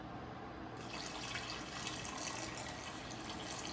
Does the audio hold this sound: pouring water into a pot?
yes